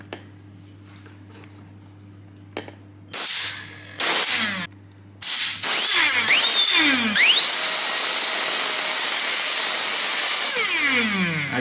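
A toy electric motor spinning at high voltage, starting with a faint hum, then a few short bursts of loud whine before it settles into a sustained high-pitched scream that shifts in pitch and then slowly fades.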